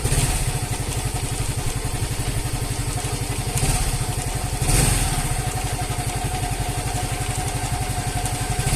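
A Yamaha Mio Gravis scooter, freshly fitted with a new battery, runs at a steady idle with an even rapid engine pulse and light mechanical clatter, swelling briefly twice, close up and with no voices.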